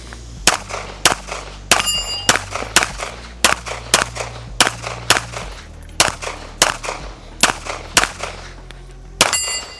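Pistol shots from a Gibson Custom during range practice, about fifteen sharp, loud cracks fired in a fairly even cadence with short pauses, each ringing briefly, plus one final shot after a longer gap.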